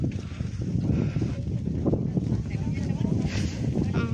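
Wind gusts steadily across an open hilltop sunrise viewpoint above the Teesta river, a broad continuous rush close to the microphone, with speech over it at times.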